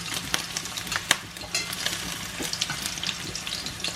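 Burger steak patties fry in a pan with a steady, dense sizzle and crackle, close and fairly loud, broken by brief spatters and pops, with no voices.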